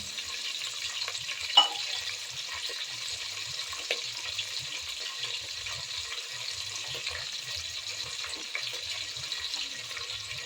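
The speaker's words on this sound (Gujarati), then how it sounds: "સરસ તડકો વાગી ગયો છે" Tempering for a pigeon pea curry sizzles in hot oil with a steady, bright hiss, joined by a few faint clicks and stirring taps, with no talking.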